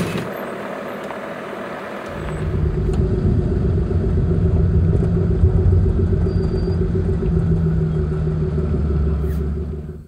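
A two-wheel drive Sprinter van rolling along a graded dirt road in Bolivia: a steady, loud low rumble of engine and tyres that swells in after two seconds of quieter cabin noise and holds constant.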